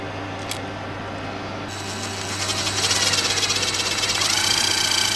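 A power drill drives screws to mount window screens on a converted school bus, its buzzing whir rising and holding steady up close after a quiet start.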